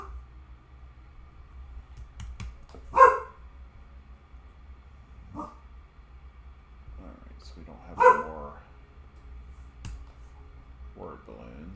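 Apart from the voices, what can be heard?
dog Daisy barking at the mail delivery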